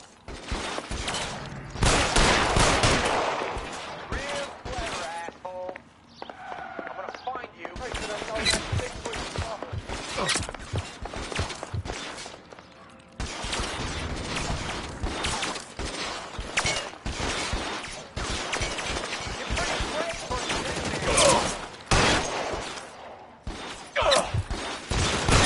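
Scattered shots crack out in L.A. Noire, sharp and irregular, as a firefight rages with brief lulls and bursts of rapid fire.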